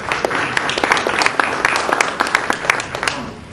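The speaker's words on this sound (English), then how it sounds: "If you could hold the applause till the end at this point during the question and answer period" Audience applause at a judicial forum, dense overlapping claps from a crowd at fairly close range, steady throughout with a voice murmuring faintly underneath.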